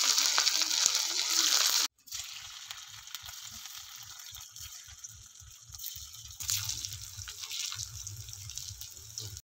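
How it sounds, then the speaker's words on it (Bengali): Bottle-gourd paneer pieces fry in oil with a pinch of salt in a pan. A loud, close, steady sizzle runs for about two seconds, then cuts to a much fainter hiss beneath a soft, regular low thumping. "এবার আমি পনিরগুলো এর মধ্যে দিয়ে ভেজে নেব।"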